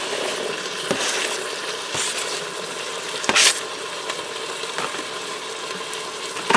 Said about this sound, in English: I'm going to allow that saute together for a few minutes till the onion softens up and the ground beef finishes browning